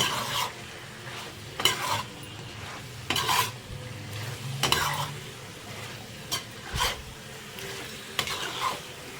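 A spoon stirs red chilli powder into chicken masala frying in a pan, with repeated scraping strokes at a steady rhythm over a soft continuous sizzle, close and moderately loud with no talking.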